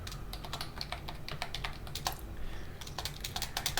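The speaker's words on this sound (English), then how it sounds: "so I'm going to do a sudo add user Scott, provide my password" Rapid, close clatter of keys on a computer keyboard as a password is entered into an Ubuntu console, a steady run of light clicks with one or two brief pauses.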